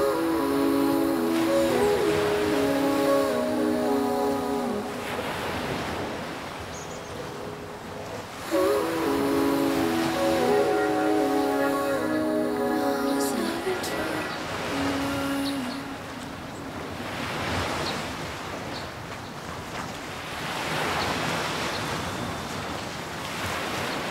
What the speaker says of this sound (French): Ça va être difficile parce qu'il y a beaucoup de vagues.